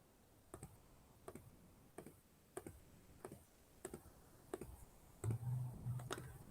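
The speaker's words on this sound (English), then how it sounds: "I'm going to type that in my calculator." Soft, quiet button presses on a calculator, about a dozen evenly spaced clicks in a steady rhythm in a still room, ending with a faint low hum.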